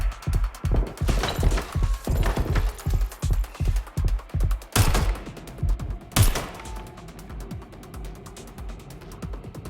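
Rapid bursts of automatic gunfire from the video game Watch Dogs: Legion, a steady run of loud close shots followed by a few heavy blasts and scattered crashes, with no talking.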